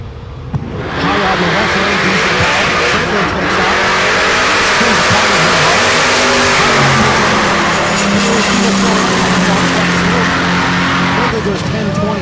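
A blue Chevrolet Nova and a diesel hot rod launch side by side at a drag strip, Tulsa Raceway Park, with a loud sustained engine roar and rising revs. The roar persists for several seconds and then fades slightly near the end, with an announcer talking over it.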